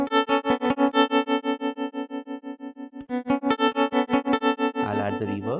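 An electric guitar is strummed in rhythmic chords through a smart guitar's distortion and modulation effects, producing a pulsing, wavering tone. It plays alone and ends in a bright, fuzzy flourish.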